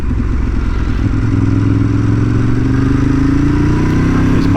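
A Ducati 848 motorcycle being ridden, its engine droning loud and close with a steady growl and rising pitch as it accelerates, over constant road and wind noise.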